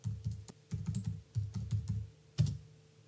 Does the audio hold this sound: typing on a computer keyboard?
yes